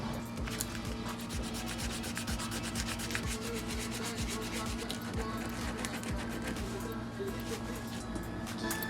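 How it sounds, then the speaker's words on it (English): Steady back-and-forth sanding of a hard plastic body part from a 2018 Chevy Colorado pickup, a rapid rasping rhythm that continues throughout, close up, with a faint hum beneath. "What I'm going to end up doing is sanding it on this side and on the other one."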